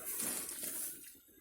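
A short hiss of water poured into a cooking pot of curried rice at a camp, close and soft, steady for about a second before tapering off.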